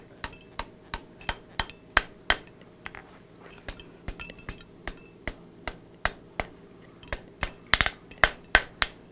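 A blacksmith's hammer rings sharply on hot metal on an anvil in a steady series of strikes, dozens of bright clanging blows, with a few irregular pauses and double hits.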